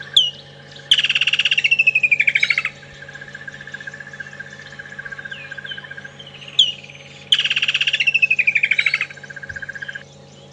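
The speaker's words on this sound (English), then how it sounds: "these woodland kingfishers were vocalising" Playback of a woodland kingfisher call, heard twice, each a sharp opening note followed by a loud, fast descending trill, set against a steady low hum on a sunrise safari drive.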